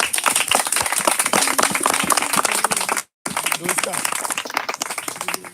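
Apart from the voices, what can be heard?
congregation clapping in praise of Jesus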